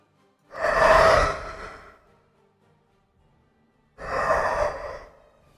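A voice imitates a creature's heavy breathing: two long, loud, breathy exhalations, close up and several seconds apart, with near silence between them.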